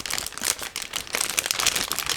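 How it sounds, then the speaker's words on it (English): Plastic bag from a Zvezda 1/35 Typhoon-K model kit, holding parts sprues, crinkles and rustles close up in a continuous, busy stream of crackles with no talking. "Maybe you can hear the sound of the plastic bag."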